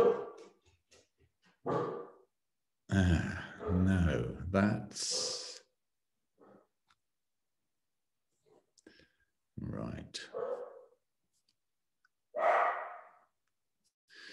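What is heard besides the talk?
dog barking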